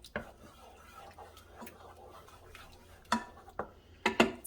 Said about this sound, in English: Give this a nice mix.